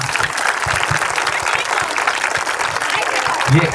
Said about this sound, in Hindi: एक बार उनके लिए जोरदार तालियां बजा दीजिए